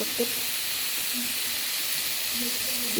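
Food frying in a pan with a steady soft hiss and faint sizzle, close and continuous, with a quiet voice briefly in the background.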